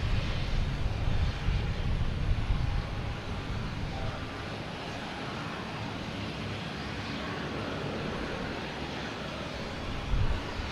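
A Southwest Airlines jet in special livery roars at Boston Logan Airport, a broad, steady rumbling engine noise heard from a distance with no talk.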